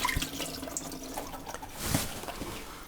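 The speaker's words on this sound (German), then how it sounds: "Das Wasser werden wir jetzt wegleeren." Soaking water from gelatine sheets is tipped away, a close, continuous watery splash and trickle with a few drips that swells briefly toward the middle.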